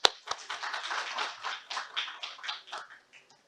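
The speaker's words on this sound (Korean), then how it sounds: "박수로 맞이해 주시기 바랍니다." Audience applause welcoming the president of a Korean public relations society to the podium at a forum session, a burst of many hands clapping that thins out and fades over a few seconds.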